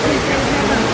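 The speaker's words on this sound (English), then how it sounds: "Waterfalls." Indoor waterfall at the Dallas World Aquarium, a continuous loud broadband rush of falling water filling the space, with a faint murmur of people beneath it.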